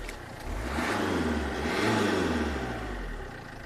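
A Citroën C2 diesel engine runs steadily at close range, a low mid-frequency drone with a slight rise in revs partway through and no voices over it.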